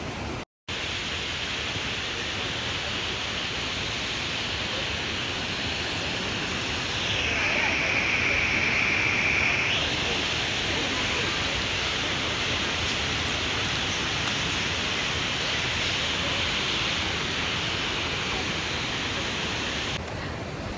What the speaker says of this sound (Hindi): यहाँ पे वाटरफॉल है।